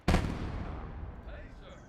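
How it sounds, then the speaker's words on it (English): A single loud mortar blast fires up close in the WWII game Gates of Hell on the eastern front, a sharp boom followed by a long rumbling decay, with faint rattles of distant combat behind it. "This mortar is really annoying me."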